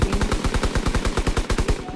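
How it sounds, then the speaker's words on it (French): Rapid automatic gunfire in the World War II shooter game Call of Duty WW2, a steady fast rattle of shots lasting about two seconds, fairly loud with no voices. "il y a des coups de feu"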